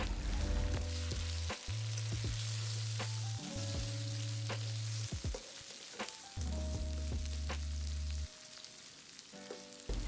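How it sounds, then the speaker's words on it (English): Prawns and stink beans stir-fry in red curry paste over low to medium heat, a steady close sizzle broken by scraping stirs, with a low droning hum coming and going underneath and no talk. "you can then add in your prawns and combine this well until the prawns have fully cooked"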